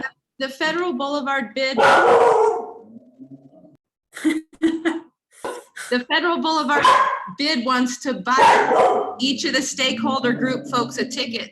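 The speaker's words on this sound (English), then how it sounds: "sorry about my dog" A dog barks a few times in the background while someone talks steadily during a steering committee meeting.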